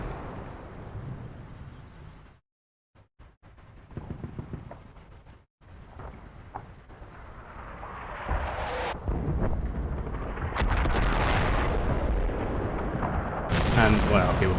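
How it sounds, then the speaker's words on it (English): Artillery barrages in the WWII strategy game Combat Mission: Battle for Normandy, with heavy booming impacts, brief silent gaps, then a rising sustained rumble of shell bursts, some sharp and close, with a voice talking over parts of it. "Again, the artillery seems to focus around here"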